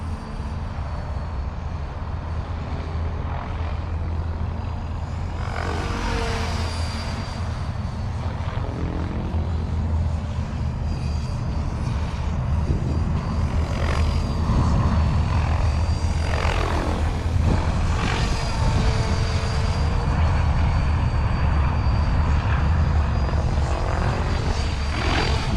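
Freedom Piuma radio-controlled helicopter cruising at low rotor head speed, a steady continuous whirring drone of rotor and motor with slowly rising and falling pitch, fairly close and alone.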